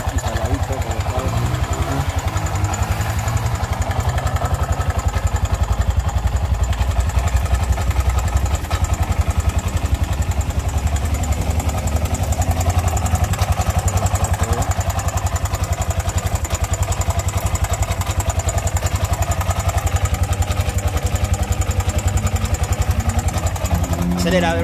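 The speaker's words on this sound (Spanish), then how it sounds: "Vamos a ver cómo suena. Ahí está el sonido para todos los que muchos han pedido el sonido." A Bajaj Torito motor-taxi engine idles through a newly installed four-stroke muffler, a steady, close, mid-pitched chugging with some clatter. A voice talks over it now and then.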